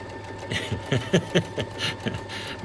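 A serger with a ruffling foot runs in short bursts, its mechanical whir rising and falling steadily as fabric feeds through with no tension, heard up close with no talk.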